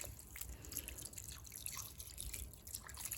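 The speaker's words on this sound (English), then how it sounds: "So we're just going to water it liberally." Water is poured liberally over a potted plant's soil, making continuous splashing and trickling with quick dripping patters throughout, fairly close.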